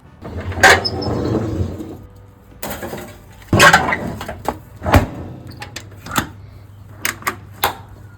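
Wood chunks added to a Pit Boss barrel smoker during a pulled lamb cook, heard as a few loud wooden clunks and scrapes followed by sparse sharp knocks and clicks, close by.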